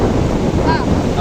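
Sea surf rushes and breaks on a beach outing in Pangasinan, a loud continuous wash of waves mixed with wind buffeting the microphone.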